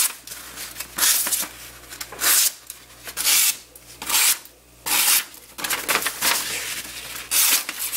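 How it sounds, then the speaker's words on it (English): Pocket knife blades, a Benchmade Rift and a Zero Tolerance 0550 with an S35V steel blade, unsharpened, slice through a sheet of paper. The cuts come as a series of close, crisp rasping strokes, about eight in a row, each roughly half a second long. "I'm going to go ahead and see how they do on the paper cut test"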